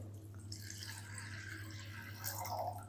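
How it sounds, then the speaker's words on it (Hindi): About half a litre of water poured into a pot of mixed lentils for dal makhani, a faint, steady trickle and splash with no talk over it. "अब हमने इसके अंदर शामिल करेंगे तकरीबन आधा लीटर पानी।"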